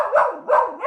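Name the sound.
dog barking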